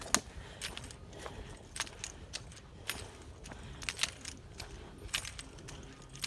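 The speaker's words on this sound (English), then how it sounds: "It's my keys. Got them hanging on my belt loop." Keys hanging from a belt loop jangle with each step during a walk along a park trail, a run of light metallic clinks at an irregular walking rhythm, close by and moderately loud, with no talking.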